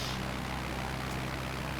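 Steady propeller-driven airplane engine drone from Microsoft Flight Simulator, played on an Xbox Series S, flying over Istanbul toward Beşiktaş; a continuous even hum with low tonal bands, moderately quiet and alone.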